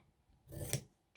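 Scissors snip paper during a junk journal craft, one close, quiet cut with a brief rasping slide that ends in a sharp snip, then a faint click.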